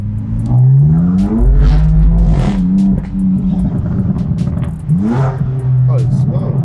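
A BMW M2 Competition's engine pulls up through the revs, its rising drone stepping through gear changes and climbing again, loud and close from inside the car.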